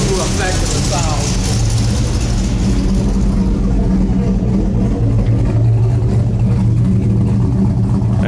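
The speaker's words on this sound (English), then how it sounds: "we're going to go outside and listen to the exhaust outside so you get a true effect of the sound." The exhaust of a 1969 Pontiac GTO with a Ram Air 4 camshaft, heard outside as a loud, continuous throbbing idle with a few rises in engine revs that fill the whole stretch.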